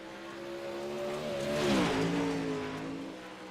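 A dirt late model race car runs a lap at Eldora Speedway, its engine note rising as it approaches, passing close with a pitch drop, then fading away, with no talk over it.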